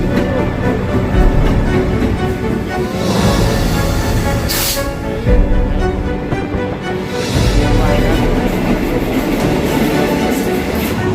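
A passenger train rumbles past loudly and steadily in Thailand, with rattling wheels and clattering cars, and a brief squeal along the way.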